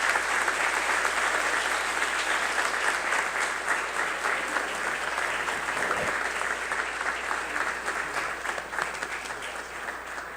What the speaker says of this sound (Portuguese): Eu peço uma salva de palmas a Aerto Luna.